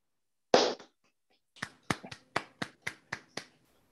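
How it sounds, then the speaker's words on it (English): Online audience applauding a lecture speaker over unmuted microphones: one loud burst at the start, then a series of about eight separate sharp claps at a steady rhythm, close and dry, with no talking. "let's please all unmute ourselves so that we can clap together to thank our speaker"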